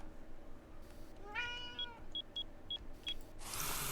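A cat lets out a single drawn-out meow, fairly close and clear, over a quiet background with a few light clicks and a rising hiss at the end.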